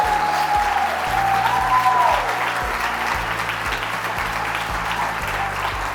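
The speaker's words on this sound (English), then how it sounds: "Can all of the amazing students please stand and we give them a big round of applause?" A crowd applauds as the students stand to be honored at a food justice event. The clapping is loud, dense and sustained, and low, steady background tones run underneath.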